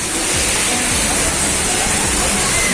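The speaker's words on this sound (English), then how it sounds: "we just came inside to the water world" Water rushes and splashes loudly and continuously inside an indoor water park, a roaring spray-like wash with faint voices buried beneath it.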